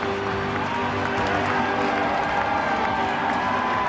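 A stadium crowd of about 53,000 at a 2011 rugby league match, Brisbane Broncos against Manly, applauding and cheering as a steady, dense roar that holds at a loud level throughout.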